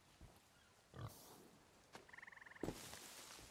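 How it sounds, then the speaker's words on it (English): A pig oinks and grunts in the pirate game Sea of Thieves, a short burst of rhythmic snorts near the middle followed by a louder squeal, with footstep-like thumps and ambient game noise around it. "Why am I hearing a pig?"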